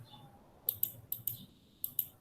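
Three quick pairs of sharp mouse clicks, like double-clicks, sound close and crisp over a quiet background.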